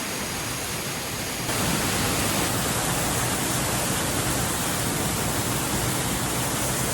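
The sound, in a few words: waterfall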